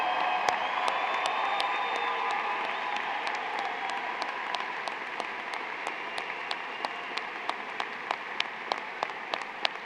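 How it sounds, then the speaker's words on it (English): A large audience gives graduates a long, steady round of applause at a university spring commencement ceremony, with dense clapping and sharp individual claps standing out throughout. "Please offer one more round of applause for all of our graduates who received their degrees today."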